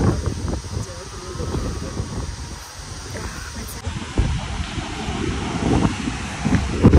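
Strong seaside wind roars steadily across the microphone with gusty low rumble and surges, nearby and continuous, while a voice speaks briefly under it.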